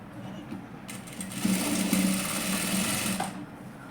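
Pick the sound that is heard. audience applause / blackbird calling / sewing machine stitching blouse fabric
sewing machine stitching blouse fabric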